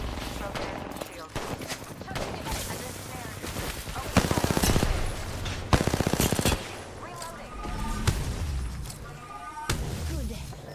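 Rapid automatic gunfire in Apex Legends during an ALGS 2023 match comes in several sustained bursts with dense, sharp reports, loud and close, alongside in-game sounds and a player talking between bursts.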